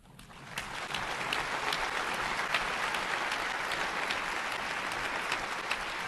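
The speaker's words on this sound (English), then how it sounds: "May I request all of you, please, to applaud Mr. Dario" An audience at the Permanent Forum applauds Mr. Dario, a broad, steady wash of many clapping hands that builds quickly in the first second and then holds evenly, heard from a moderate distance.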